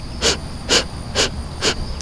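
Kapalbhati breathing: four forceful, evenly spaced nasal exhalations, each a loud, hissing puff about half a second apart, close to the listener, with no one talking.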